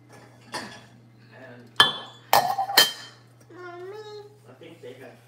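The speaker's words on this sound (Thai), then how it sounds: "เก็บจานที่จากเครื่องล้างจานคุณลักซ์" Dishes and cutlery being unloaded from a dishwasher: a few sharp separate clinks and clatters of plates and utensils, close by, with a steady low hum and brief sounds in between.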